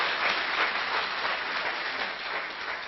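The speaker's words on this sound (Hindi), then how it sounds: "जोरदार ताली यतेन जी के लिए भी" An audience breaks into loud, sustained applause that lasts the full few seconds, a dense wash of clapping with no voices over it.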